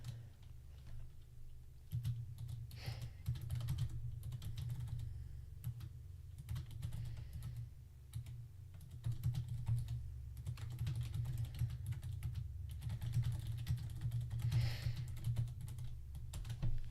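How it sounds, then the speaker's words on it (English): Steady typing on a computer keyboard during a live level-editing session for Future Cop LAPD, a continuous patter of close, fairly quiet key clicks with no talking. "If you think my mouse clicks are bad, probably my keyboard is much worse."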